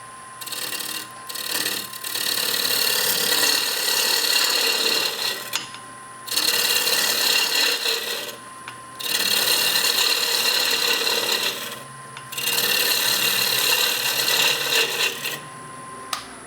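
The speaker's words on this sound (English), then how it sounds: "I'm still hitting the wood at the same spot of the bowl gouge" A bowl gouge cuts into wood spinning on a lathe, giving a loud, close, steady rasping shear in several long passes of two to three seconds each, broken by brief pauses as the tool lifts away.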